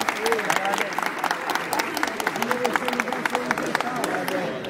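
Audience at the Batalha do Coliseu rap battle in São Paulo claps steadily and cheers through a rapid, dense patter of applause, while a voice talks over the crowd.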